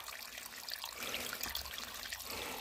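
Water trickles and dribbles out of a draining backyard pool as the last of it runs off, a faint, steady wet splashing flow with no talk over it.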